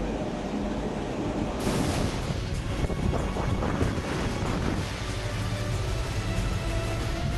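Strong wind and sea waves roaring aboard a warship during western Pacific naval exercises, a loud, steady broadband rush with buffeting gusts throughout.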